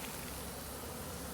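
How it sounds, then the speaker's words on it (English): A soft, continuous buzzing hum of a honeybee swarm flying close by, faint and steady throughout the short moment. "there's still quite a few bees airborne"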